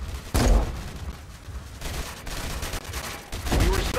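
Gunfire from battle robots in the War Robots video game: a couple of heavy booming shots with a rumbling low-end, separated by a sustained mechanical drone.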